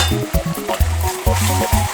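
Oil poured into a pot for Edikaikong soup, sizzling and crackling close by in short uneven bursts, with clinks of the pot and no talk.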